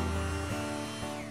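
A Dremel rotary tool grinding away decayed, damaged material during a repair, a steady faint high whine lasting a moment with no talking.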